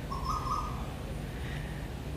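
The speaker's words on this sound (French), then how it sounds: "On entend les jolis oiseaux." A short, faint bird call sounds a couple of times over a low, steady background hum in a quiet Kuala Lumpur suburb.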